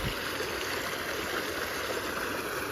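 Water draining from a fish pond rushes steadily, a constant broadband gush that stays even and fairly loud throughout with no voices.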